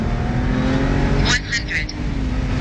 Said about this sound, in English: I'll play a little bit of a flat out launch with that 8 HP 45 in the 135 now.